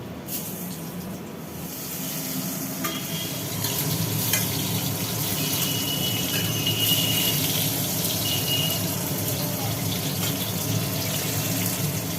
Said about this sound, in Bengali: বেগুনগুলোকে ভাজা হবে